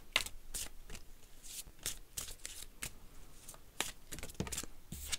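Oracle cards being shuffled before one is drawn, a run of quick papery riffles and soft slaps in uneven bursts, close and fairly quiet with no voices.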